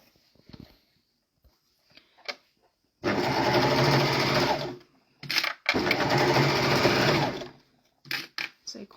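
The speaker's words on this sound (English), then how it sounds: "So let's just sew down that short edge." A sewing machine stitches down the short edge of children's leggings in two steady, loud, close bursts of rapid whirring, separated by a brief pause, with quieter handling noises before and after.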